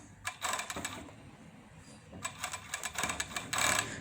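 Overlock serger fitted with a gathering foot stitching fabric into a ruffle, heard as several short bursts of rapid mechanical clatter with brief pauses between runs, close and fairly loud.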